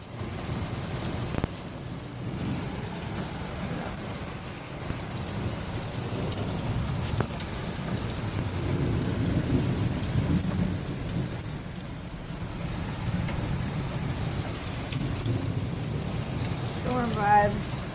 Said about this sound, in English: but this storm is gnarly